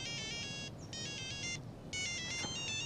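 A telephone rings with an electronic trilling tone in three bursts separated by short gaps, fairly quiet and alone with no talk.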